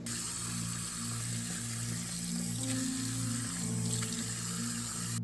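Tap water runs steadily into a sink as aquarium test equipment is rinsed out, making a continuous, fairly loud splashing rush with faint clinks of the gear underneath.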